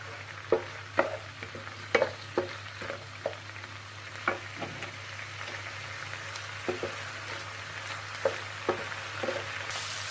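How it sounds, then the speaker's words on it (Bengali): Masoor lentils frying in a pan, a steady sizzle broken by frequent sharp crackles and stirring clicks, close and moderately loud with no talking. "ডালটাকে একটু ভেজে নেই।"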